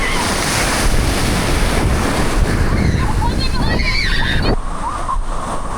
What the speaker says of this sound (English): the waves are like so nice and so strong